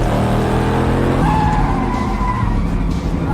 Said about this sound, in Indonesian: Pelarian itu berubah menjadi aksi kejar-kejaran berkecepatan tinggi.